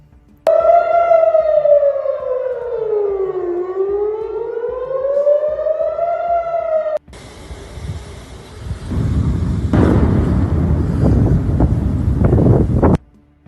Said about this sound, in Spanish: En segundos, las sirenas se expandieron hacia Najarilla, Galilea Occidental, Haifá y Acre